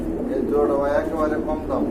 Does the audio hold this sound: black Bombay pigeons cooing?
yes